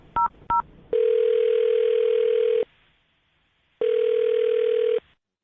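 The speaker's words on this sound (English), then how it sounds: "I'm going to dial her phone number right now" A telephone call is placed during a radio show: two short keypad dialing beeps, then a long steady tone that stops, a gap of silence, and the same tone again, all clean and close.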